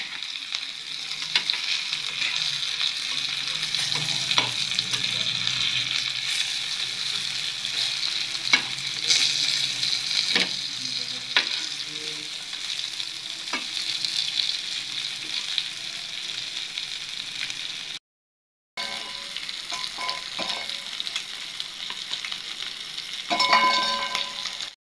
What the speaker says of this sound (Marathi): तर मित्रांनो, आता इथे मी पलटून घेणार आहे. हे बघा, छानपैकी आता आपली एक बाजू फ्राय झालेली आहे.